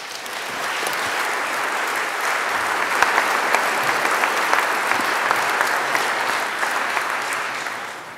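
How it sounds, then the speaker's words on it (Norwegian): Loud, steady audience applause in a lecture hall, dense clapping from a large crowd sustained for about eight seconds, with a few sharper individual claps standing out. "Vi gir deg en applaus."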